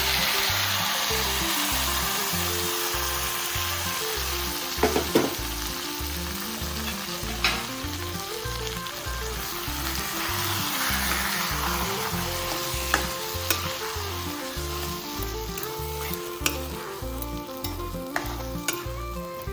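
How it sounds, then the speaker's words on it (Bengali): Dried fish and mixed vegetables fry in a pan for a Bengali checka recipe, giving a steady close sizzle with occasional sharp crackles and scraping stirs, while soft music plays underneath. "শুকটি মাছটা সুন্দর ভাজা হয়ে গিয়েছে এর মধ্যে এবার আমি ছ্যাঁকাগুলো দিয়ে দেবো"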